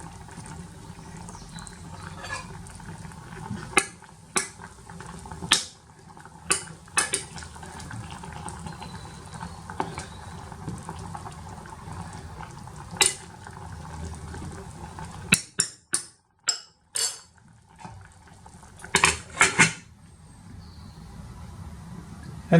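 A utensil stirs boiling chicken livers in a pot on an electric cooker, giving scattered metallic clinks and scrapes over a low bubbling background, with a cluster of sharper knocks near the end.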